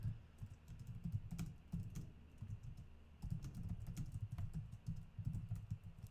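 A computer keyboard is typed on in irregular bursts of soft key clicks. They are faint and close against a low room hum, with no one speaking.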